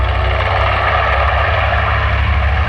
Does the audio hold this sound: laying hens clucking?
no